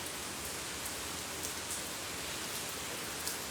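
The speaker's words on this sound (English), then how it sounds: "It's raining here." Rain falling outdoors, a continuous dense hiss at low level with faint scattered drop ticks, steady throughout and with no talking.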